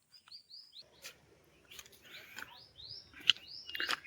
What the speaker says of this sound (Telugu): పక్షులు కూడా చూడండి ఎలా అరుస్తున్నాయో.